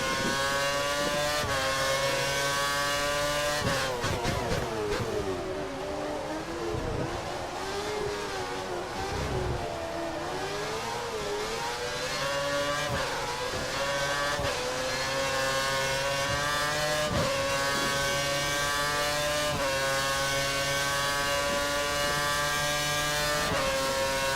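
Formula 1 race car engine in the 2013 game, racing at Shanghai, wails continuously at high revs for the whole stretch, dipping and climbing through corners and shifts, loud and alone with no talk.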